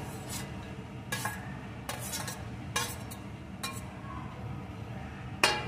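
Chopped carrot and onion get mixed in a bowl, heard as a series of light clinks and scrapes of a spoon against the dish over a soft steady background, close and quiet, with no talking.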